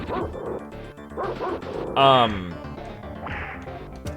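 Earthworm Jim on the SNES, with a dog attacking the player character: sharp barking yips and a crashing hit burst out in quick succession over busy game sound effects.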